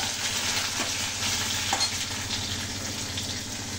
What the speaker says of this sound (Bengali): এবার আমড়াটা তেলের মধ্যে দিয়ে শুকনো লঙ্কা দিয়েছি, সর্ষে দিয়েছি,